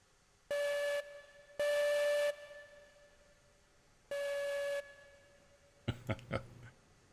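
A steam locomotive whistle on a mine railway sounds three loud, steady blasts, the second the longest, separated by pauses, followed near the end by a few sharp clanks and bursts of steam.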